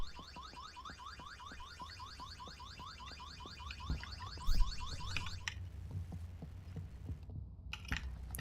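A car alarm in the zombie survival game Vein, a rapid repeating electronic warble blaring steadily for about five seconds before cutting off, leaving quiet ambience and a few faint clicks.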